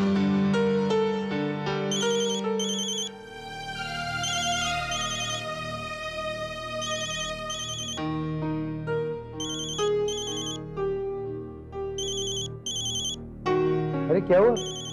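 A melodic phone ringtone plays repeatedly and fairly loud, with brief speech near the end.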